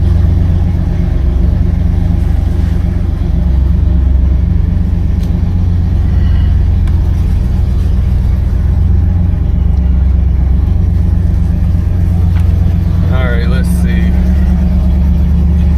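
A 1975 Buick LeSabre project car runs on a drive with a loud, steady low engine rumble throughout. A brief rising squeal comes near the end.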